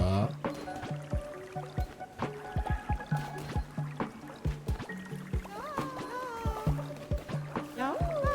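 Crops being watered in the video game Cult of the Lamb: a run of short, evenly spaced watery drips and splashes, with someone talking over them.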